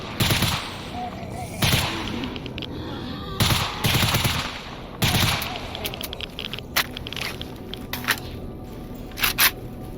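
A gunfight in the shooter STALKER Anomaly crackles with bursts of automatic rifle fire and single shots, some close and sharp, others distant, in irregular clusters over a low ambient backdrop.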